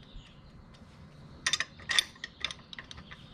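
A wrench loosening a 14 mm bolt on the chain adjuster of a Honda Shadow VLX 600 motorcycle, a few quick close metallic ratchet clicks in two short bursts over a faint background hum.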